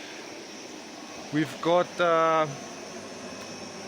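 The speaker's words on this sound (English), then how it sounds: "145 cubic meters air blower that supplies our air all the way to the fish tanks" A 145-cubic-meter air blower feeding air to trout fish tanks gives a steady, even background hum while someone speaks briefly over it.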